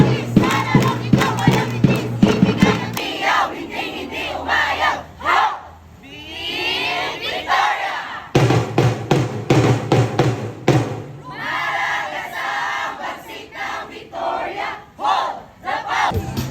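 A crowd of Barangay Lakas supporters shouts a loud, rhythmic group yell at a yell and song competition during a founding anniversary event, with pounding thumps and chanted bursts filling the whole stretch close by.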